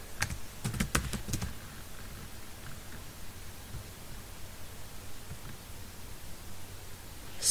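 Keystrokes on a computer keyboard while entering an update command in a database program, a quick burst of several clicks in the first second and a half, then only faint scattered taps over quiet background hiss.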